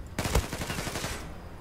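Gunfire from the online shooter game Zula, a rapid burst of automatic shots in quick succession, loud and close, lasting about a second before fading into background noise.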